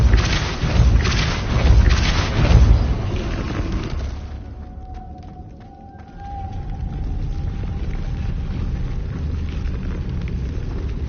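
A Depulso spell is cast in Hogwarts Legacy, a loud booming blast followed by a lower rumbling, reverberant tail and a thin tonal ring in the game's ambience.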